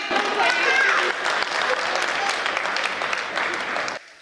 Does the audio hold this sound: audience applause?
yes